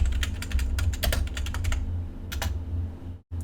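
Rapid keystrokes on a computer keyboard during Photoshop work, a steady close burst of clicking that pauses briefly, then a short second flurry before stopping.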